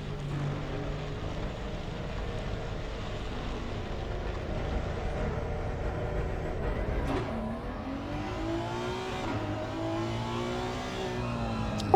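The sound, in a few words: Honda race car driving away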